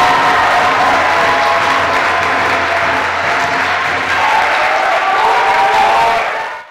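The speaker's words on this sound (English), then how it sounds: "Keep clapping until she gets up here." Sustained audience applause as a poet walks to the stage at a spoken-word event, a loud, continuous roar of many hands with light cheering that stays full before tapering off at the very end.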